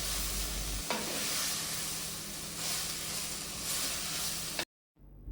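Bitter gourd frying in a pan for a traditional Kerala theeyal, a continuous close sizzle with occasional stirring scrapes that stops abruptly into near silence, with no talk.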